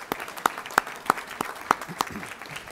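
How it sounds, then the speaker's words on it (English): An audience at a board meeting gives a short round of applause, with sparse, distinct hand claps in a loose rhythm that sound fairly close in a room. "Let's give Ava a hand of applause for good job."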